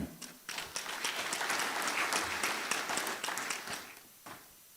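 Applause from a graduation ceremony audience at Universitas Jember rises quickly into a dense, steady round of clapping that stays full for a few seconds, then thins and fades out, heard from within the hall.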